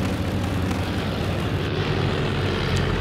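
Propeller planes in the Crimson Skies video game, a loud continuous engine drone with a buzzing rough texture, close and filling the scene without talk.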